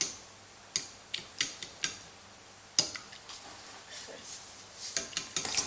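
Ingredients for cauliflower fritters, including chopped coriander, being mixed in a bowl: a string of sharp utensil clinks and taps against the bowl, irregular and close, over a quiet room.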